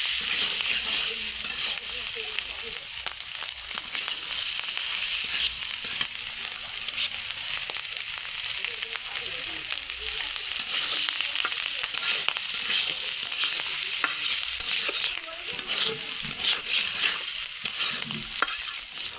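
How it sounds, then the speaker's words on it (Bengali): Malabar spinach and egg frying in a pan, a steady close sizzle with the scrape and clatter of stirring running throughout, no voices. "এগুলা ভাজা পুঁই মেথিলিটা ভালো করে ভাজা ভাজা করে নিব"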